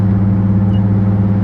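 A Nissan Skyline R33 GTST with an RB25DET engine and a GTX3076 turbo runs close by with a loud, steady, deep rumble. The note holds even throughout with no pauses and no voices.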